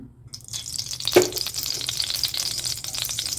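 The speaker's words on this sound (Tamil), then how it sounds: "நம்ம முந்திரி பருப்பை நெய்யில் நெய்யை ஊற்றி முந்திரி பருப்பு வறுத்துக்கலாம்" Cashew nuts fry in hot ghee with a bright, steady sizzle that begins after a short quiet moment, led by a sharp splash as they hit the fat, then a continuous crackle close by.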